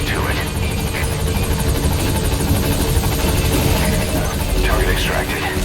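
A helicopter arrives in a video game: a loud, steady rotor drone that fills the whole stretch without a break, with voices faintly mixed in.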